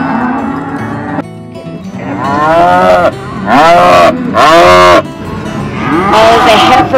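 Cattle and calves held in pens for shipping give loud, drawn-out moos one after another, several overlapping calls close by across the whole stretch with brief pauses between them.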